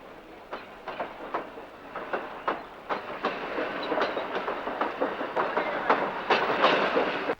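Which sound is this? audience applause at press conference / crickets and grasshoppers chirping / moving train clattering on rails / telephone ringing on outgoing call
moving train clattering on rails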